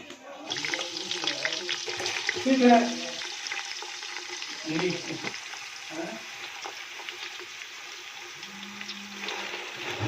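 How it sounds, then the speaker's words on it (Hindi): Chopped onions sizzle in hot cooking oil inside a pot, a steady frying hiss with bursts of crackle and some clatter throughout, close and moderately loud. "कुकिंग ऑयल गर्म हो चुका था तो अभी मैंने इसमें प्याज शामिल कर दिए हैं"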